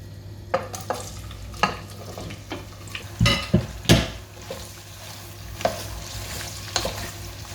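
Onions frying in oil in a pan for Hyderabadi mutton dum biryani, a low steady sizzle broken by sharp, irregular clatters of a spoon stirring against the pan, close up and without speech.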